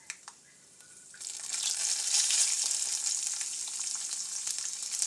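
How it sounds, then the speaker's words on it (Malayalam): Urad dal drops into hot oil with popped mustard seeds for a Kerala koottu curry. After a few faint clicks, a loud, steady, crackling sizzle takes over and holds to the end. "ഉഴുന്നും കൂടെ ഞാൻ ഇതിൻ്റെ അകത്തേക്ക് ഇട്ട് കൊടുക്കുകയാണ്"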